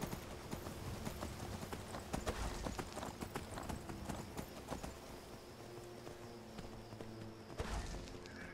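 Horse hooves clip-clop steadily while riding through the Skyrim video game world, a continuous rhythmic trot with occasional thuds, moderately close and fairly quiet.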